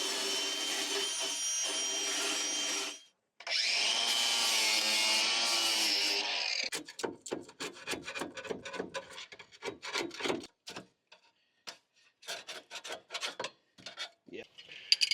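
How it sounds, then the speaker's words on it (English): Harsh rasping scrapes as surface rust is worked off the angle iron of a golf cart battery tray, a long continuous stretch followed by many short, uneven strokes, close and fairly loud. "So I pretty well got most of the rust removed."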